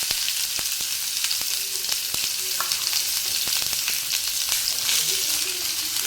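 Chopped onion fries in oil with mustard seeds and cumin, giving a steady, close hiss with scattered crackles and pops. The sizzling continues with no one talking.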